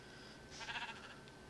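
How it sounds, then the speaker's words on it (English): A sheep bleats faintly in the Minecraft video game, one short wavering bleat with no talk over it. "Sheep."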